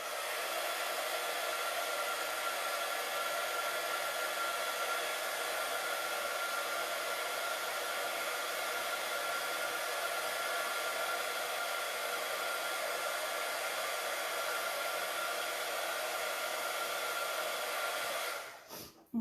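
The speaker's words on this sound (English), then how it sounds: "I shall heat emboss that one" A heat gun blows steadily to heat emboss a stamped card, a loud, even hissing roar that holds for most of the time, then cuts off abruptly near the end.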